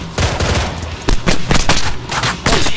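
Gunfire in the military shooter game ArmA 3: rapid bursts of loud, sharp shots in uneven clusters, close and continuous, without talk.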